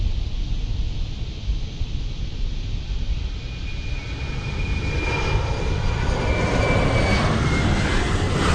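Four-engine Airbus A380 jet engines in Microsoft Flight Simulator 2020, a steady loud roar with broadband hiss that swells and brightens partway through, a thin whine rising above it, with no talk.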